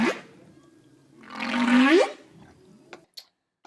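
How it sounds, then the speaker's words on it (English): A whale call used as an edited sound effect: a rising, swelling moan with bending tonal sweeps that builds over about a second and a half, then fades, followed by a couple of short clicks near the end. "we're going to put a whale sound here."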